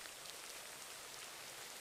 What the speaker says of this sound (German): Abgesehen von den Regentropfen.